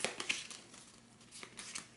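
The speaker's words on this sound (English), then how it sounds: "we will go ahead and shuffle the red deck and draw 2 for his ability" Cards from a red board game deck in Arkham Horror being shuffled and drawn on a tabletop: a close run of soft papery riffles, crinkles and flicks, brightest in the first half, with light slaps near the end and no talking.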